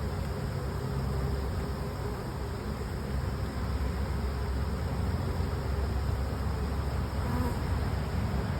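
Honeybees buzzing around an open beehive while frames of pollen and brood are inspected, a dense steady hum of many insects close by, unbroken and without talking.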